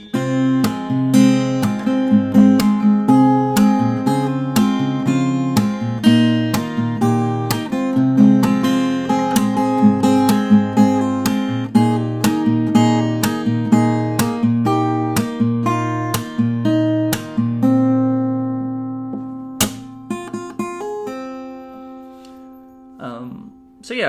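Fingerstyle acoustic guitar plays the bridge of a song, with plucked notes over ringing chords in a steady rhythm, close and clear, ending in a few sparse strums.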